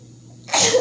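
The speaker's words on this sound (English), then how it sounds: "I'm about to sneeze." A single sudden sneeze bursts out close and loud after a brief quiet intake, sharp and breathy, ending in under half a second.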